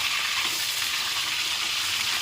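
Fish frying in oil in a pan, a steady, dense sizzle that stays loud and close throughout with no pauses or voices.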